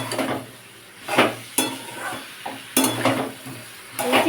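Potato and jackfruit stir-fried with spices and asafoetida, no onion or garlic, in a pan: spatula scrapes and clacks come in bursts over a soft steady sizzle, close up.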